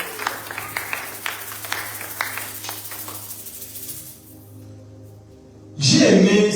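Church congregation applauding, a scattered run of claps at moderate distance that fades into quiet room tone, followed by a louder closing burst.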